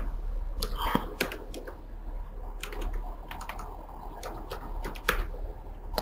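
Quick bursts of keystrokes on a computer keyboard as a search term is entered in Microsoft Word, close and crisp with brief pauses between clusters.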